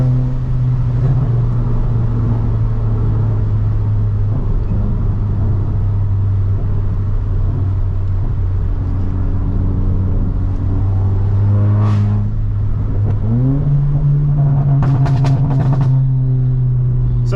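A Stage 2 tuned VW Polo GTI droning under load while driving, steady low engine and exhaust hum that climbs in pitch as the revs rise, with a few sharp crackles and pops near the end.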